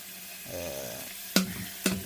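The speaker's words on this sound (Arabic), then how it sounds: "نبدأ نقلب بيها ونضيف البصل" Chicken liver and onion being stirred in hot oil in a pan, a soft sizzle with two sharp scraping clacks of a utensil against the pan near the end, close.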